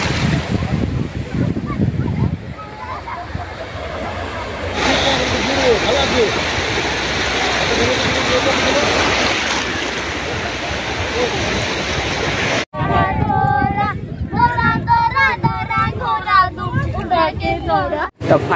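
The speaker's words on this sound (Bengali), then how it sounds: "আর তোমাদের আমি এখানে ঢেউগুলো দেখাচ্ছি," Sea waves at Bakkhali beach make a broad, continuous wash of surf close by, swelling and easing, with crowd chatter and voices mixed in and wind buffeting toward the end.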